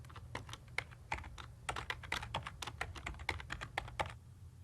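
Rapid typing on a computer keyboard, a steady run of crisp close key clicks with brief irregular pauses, no voices.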